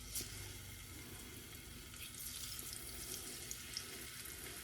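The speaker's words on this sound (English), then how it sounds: "our grease is getting hot here. And we're just going to start cooking our shrimp" Shrimp cooking in hot grease in a pan for shrimp and grits, giving a steady broadband sizzle that holds at an even level throughout, with a few small crackles and no talking.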